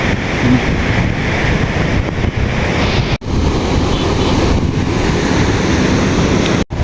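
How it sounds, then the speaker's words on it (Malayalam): Water rushing with force through opened dam shutters, a loud continuous roaring wash with wind buffeting the microphone, broken by a couple of brief dropouts. "ഡാമിന്റെ ഷട്ടർ തുറന്നിട്ട് വെള്ളം പോണ കേട്ടോ"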